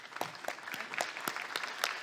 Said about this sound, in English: can I have a round of applause for our panel?